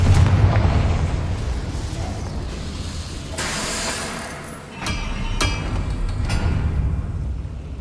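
Confringo fire-blast spell cast in Hogwarts Legacy on Xbox Series X: a few sharp, bright bursts over dense, continuous game ambience.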